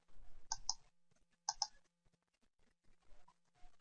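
A few separate clicks on a computer keyboard or mouse in pairs, close and crisp, against a quiet room with faint hum; used while working in Google Docs.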